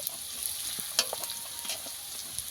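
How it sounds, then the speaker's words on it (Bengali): Bitter leafy greens fry in a pan, a steady close sizzle with light stirring clicks and one brief scrape partway through. "ডিমের শাকটা আমি এইভাবে ভেজে নিয়েছি"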